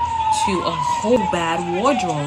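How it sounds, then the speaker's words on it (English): A wailing emergency vehicle siren in New York rises and falls at a steady pace while a person talks over it throughout. "excuse the sirens, I live in New York"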